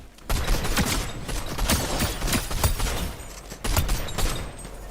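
Gunfire rattles through a fight in the video game Naraka: dense, loud bursts of rapid shots crackle close by and keep going almost without pause.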